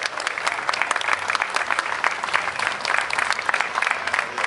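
Dense, steady applause from an audience at a Schützenfest, a marksmen's festival, continuing without a break for several seconds.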